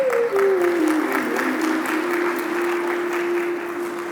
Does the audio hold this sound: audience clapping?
yes